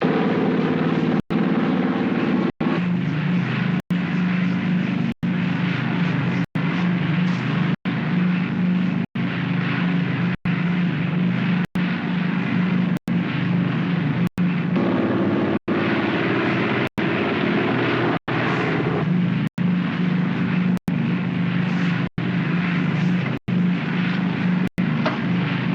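A steady, loud aircraft engine drone holds throughout a descent on approach, broken by regular sharp clicks roughly every second or so.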